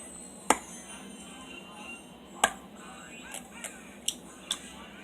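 An egg is cracked into a Rapid Brownie Baker with a few sharp, close taps and clicks spaced irregularly over several seconds, standing out against a quiet room hum.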